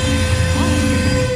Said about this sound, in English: Another day and another northbound freight train is headed out of Atlanta,